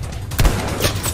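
A sniper rifle gunshot in the video game Battlefield V, a single sharp crack with a loud low boom near the middle, followed by a fainter echoing report, with no voices over it.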